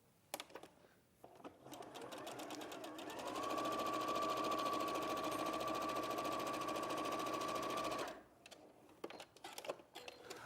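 A sewing machine runs a 1/4-inch seam through fabric with its right sides together, a steady whirring hum of about five seconds, with clicks and handling sounds before and after it.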